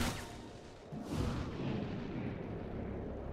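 Weapon fire in XCOM Chimera Squad: a booming shot at the start and another heavy blast about a second later, each trailing into a rumbling decay.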